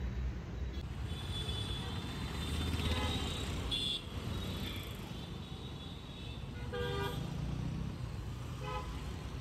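Busy Hyderabad city road with steady traffic rumble and several short car horn toots sounding over it, moderately close, with no clear talk.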